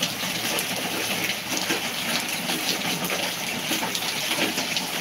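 Rising flood water flows and gushes in a steady, dense rush that stays loud and continuous throughout, close by with no pauses.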